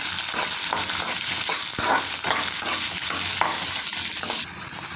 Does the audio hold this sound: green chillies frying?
yes